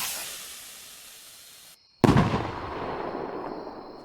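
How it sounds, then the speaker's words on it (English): A firework launching in the PC game Fireworks Mania: a fading fuse hiss, a brief silence, then a sharp loud burst followed by a crackling, sizzling tail that slowly thins out. "They sound just like real fireworks."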